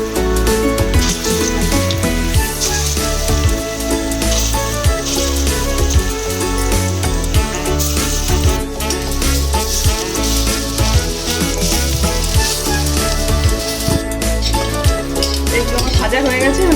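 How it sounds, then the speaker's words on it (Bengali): The rest of a batch of lentil fritters fries in mustard oil, a loud, continuous sizzle and crackle with occasional stirring sounds, holding steady from start to finish. "বাকিগুলো আমি ভেজে নেব।"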